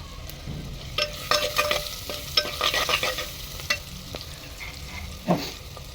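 Chopped onion hits hot oil in a pan on a clay desi stove while dal is cooked, sizzling with sharp bursts and scraping stirs, close and clear, no talking.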